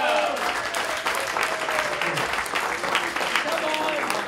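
An event audience applauds in a steady, dense patter of clapping that lasts throughout, fairly close and loud, with voices mixed in.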